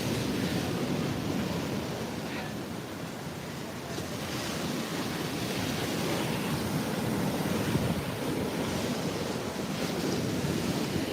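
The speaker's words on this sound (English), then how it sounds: "Man, I just love watching the power of these waves too." Ocean waves surge and break in a constant, loud wash of surf, mixed with wind buffeting the microphone, with no voices.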